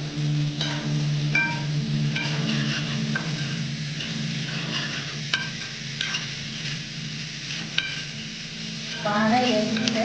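Onions sizzle and fry in a pan for an Andhra-style chicken curry while a spoon stirs them, steady close-up frying hiss with scraping stir strokes throughout.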